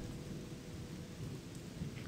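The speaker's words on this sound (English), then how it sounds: "It always rains when I come through here." Steady rain with low rolling thunder in the video game Gothic 2, a continuous wash of downpour with deep rumbles underneath, moderately quiet and unbroken throughout.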